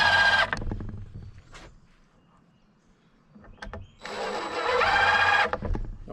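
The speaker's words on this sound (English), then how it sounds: "I'm just going to add a couple of decking screws to get this thing started." A power driver sinks decking screws into the front metal of a cabin, two loud whining bursts with a quiet gap between them and a few light taps.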